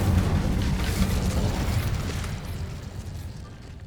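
Incendio fire spell cast in the Hogwarts Legacy video game: a loud, dense burst of roaring flame that holds steady for a few seconds, then slowly fades and thins toward the end.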